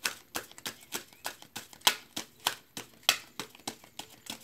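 A large deck of tarot cards is shuffled in quick crisp flicks, a steady rhythmic series of sharp snaps close by, with no speech.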